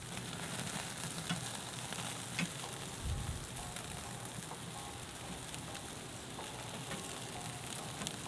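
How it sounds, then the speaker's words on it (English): Meatballs sizzling on a grill over a campfire, a dense continuous frying hiss with crackles, close and steady throughout, no talk. "Look how they sizzle."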